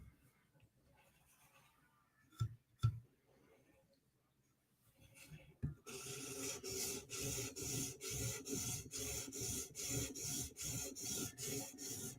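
Chris Reeve Inkosi tanto knife drawn over an 800 grit stone, one-direction passes held flat, making a steady run of close, rhythmic rasping strokes after a few quiet scrapes and knocks.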